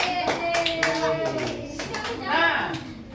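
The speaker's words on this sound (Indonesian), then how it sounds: "Tepuk tangan buat Niko." A classroom audience claps for a student named Niko, a short burst of hand clapping that swells toward the end, with speech and children's voices mixed in.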